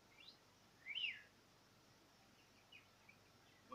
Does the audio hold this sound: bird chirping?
yes